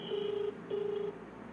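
Unanswered phone call ringback: two long, steady electronic beeps separated by a short gap, heard faintly through the handset over a quiet background.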